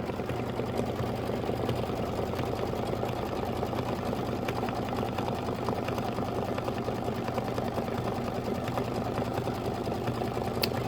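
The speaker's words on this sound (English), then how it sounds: "stitch the bucket band and base fabric pieces or the tack down lines" A sewing machine stitches fabric pieces and tack-down lines for an autumn apple quilt project with a steady, continuous, rapid mechanical hum and needle chatter up close, unbroken throughout, with no speech.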